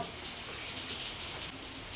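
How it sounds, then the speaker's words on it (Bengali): Rain falls steadily as a soft, even hiss with patter on surfaces, fairly faint and uninterrupted, on a rainy day. "এদিকে বৃষ্টি পড়ছে"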